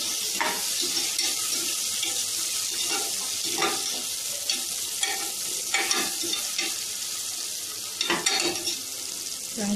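Chopped onions fry in hot oil for a vegetable pulao, giving a steady close hiss broken by scattered scrapes and taps of a spatula stirring the pan; no one speaks.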